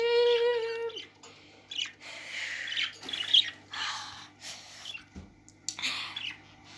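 A pet bird gives a sharp, tonal call followed by a series of scratchy squawks and chirps, close by and intermittent in a quiet room.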